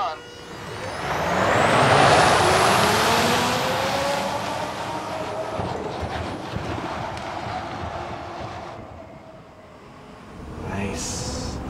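A Nikola truck climbs a 20% grade at a proving ground with a loud whoosh of wind and drivetrain that swells early, eases through the middle, then lifts again near the end. Rushing air and road noise stay steady throughout.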